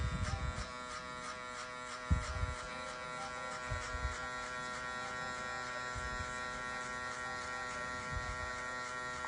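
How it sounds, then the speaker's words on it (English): Electric hair clipper buzzing steadily during a high taper blow-out haircut, a close continuous tonal hum with soft bumps as it moves through hair, no talking. "I'm going to go midway, the clipper midway, and only using the corner"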